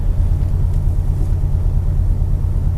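A supercharged Mercedes-Benz E55 AMG W210 engine with a Kleemann 55-K2 supercharger, misfiring and wobbling: a loud, close, continuous low rumble with an uneven, pulsing throb throughout.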